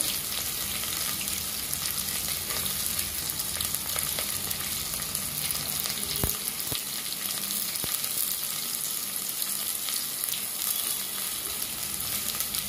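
Onion and cumin frying in a pan for a soya pulav, a steady dense sizzle with occasional soft stirring knocks, close and continuous with no talk.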